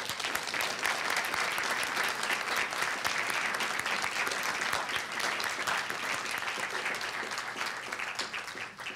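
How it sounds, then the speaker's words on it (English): A school board meeting audience honoring Ms. Frances Grice breaks into sustained, vigorous applause, a thick, continuous clatter of many hands that holds steady for about nine seconds before starting to thin. "please join us in honoring the life and legacy of Ms. Frances Grice with an applause that would make her proud"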